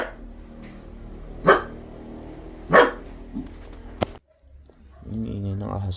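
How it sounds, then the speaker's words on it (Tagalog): Two loud dog barks about a second apart, with a sharper yip after them, over steady background noise and a low rumble near the end. "Yung ingay ng aso ko."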